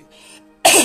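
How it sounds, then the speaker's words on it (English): One sudden, loud cough bursts out near the end, following a stretch of quiet low hum. "This cough."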